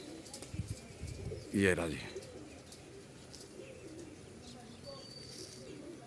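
Malwai Punjabi pigeons cooing nearby, with a brief flutter of wings and soft chirps over background noise, while someone speaks briefly.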